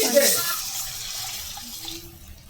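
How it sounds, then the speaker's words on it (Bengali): Water poured into a cooking pan for a water lily and shrimp curry, a short splashing gush at the start that tapers into a soft, fading wash with faint background sounds. "পানি দিয়ে দিলাম"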